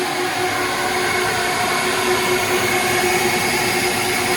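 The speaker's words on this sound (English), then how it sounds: "Here we go, air dryer." A car wash air dryer gives a loud, steady roar of rushing air that blows continuously without pause, a broad hissing drone with no voices.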